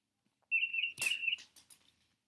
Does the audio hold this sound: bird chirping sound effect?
yes